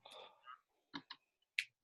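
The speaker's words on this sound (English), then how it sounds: "Who's typing?" Sparse, quiet clicks of typing on a computer keyboard during a video call, a few isolated keystrokes and short bursts spaced apart, faint and close with no talk over them.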